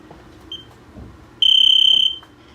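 A brief electronic beep, then a loud, sustained end-of-round buzzer tone lasting under a second before cutting off, in an otherwise quiet room.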